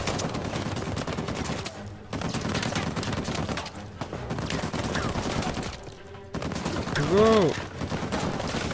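Rapid bursts of video game gunfire from Uncharted 4, loud and continuous across the clip with brief pauses, mixed with a short spoken word.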